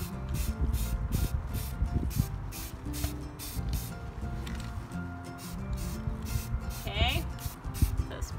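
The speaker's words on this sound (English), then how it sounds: "So I'm just spraying." A spray paint can hisses in repeated short bursts outdoors on a windy day while green paint goes onto an art project, each blast steady and close, with someone talking over the spraying.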